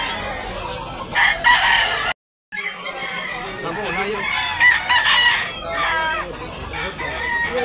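Roosters crow repeatedly amid clucking chickens, several birds calling over one another close by, with a person talking in between, in Tabunok, Talisay, Cebu.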